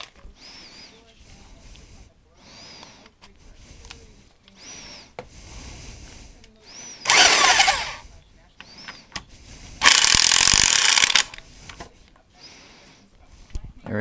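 Power tool tightening a part on a 2009 KLR650 motorcycle, two loud bursts of whirring lasting about a second each, separated by a pause, with someone talking quietly in the gaps.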